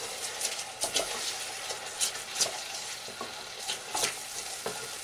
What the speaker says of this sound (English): I'm just going to add my stock, and then you keep stirring.